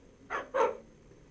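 Two quick dog barks from Minecraft, close and clear in succession, the second slightly louder, over a quiet background.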